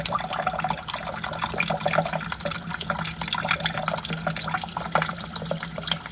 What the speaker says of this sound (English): Now I'm just going to rinse my grits with some cold water.